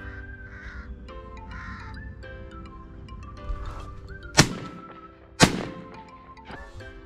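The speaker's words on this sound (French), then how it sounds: "L'après-midi recommence avec cette corneille qui me vient encore une fois dessus." A carrion crow caws repeatedly during a wood pigeon shoot in the Nièvre, and two sharp, loud 12-gauge shotgun blasts crack out close by between the calls.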